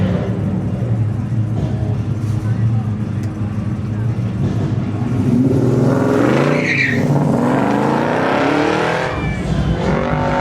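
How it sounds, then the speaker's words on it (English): A 1965 Chevy Chevelle Malibu SS racing on an autocross course, loud engine roaring and revving as it accelerates past, its pitch sweeping up and down, while an announcer talks over the action. "Driving a 1965 Chevy Chevelle Malibu"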